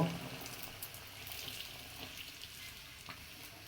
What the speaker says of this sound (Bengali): এবং তেলটা গরম হলে পিঠাটা এইভাবে ভেসে উঠবে এখন আমি উল্টাই দেব